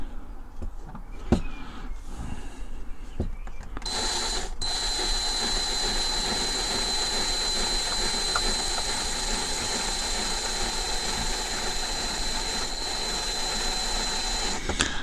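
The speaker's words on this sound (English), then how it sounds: "my drill's not running out, as you can hear. It's just me going very slow." A power drill whirs steadily at low speed for a long stretch, working on a Dinky 158 Rolls-Royce Silver Shadow model car, after a few scattered clicks and knocks at the start.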